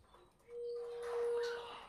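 Pet birds in a home cage, one of them a black cockatiel, call while scrambling for freshly given food: a single clear, sustained tonal note held for about a second, close and fairly soft, with no talking.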